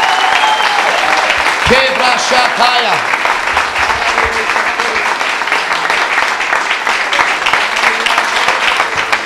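A church congregation applauds during worship, a dense, sustained wash of clapping from many hands that fills the room and stays loud throughout, with a few voices calling out over it.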